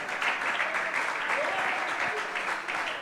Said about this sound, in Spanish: ¿Cuánto le dan aplausos al Señor?